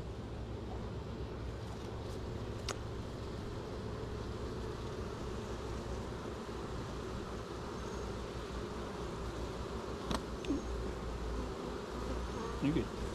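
Honey bees buzz around an open hive during a honey harvest, a continuous, close droning hum with a few sharp clicks and knocks of hive equipment, and no clear talk.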